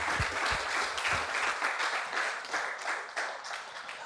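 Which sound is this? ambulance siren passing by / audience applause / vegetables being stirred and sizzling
audience applause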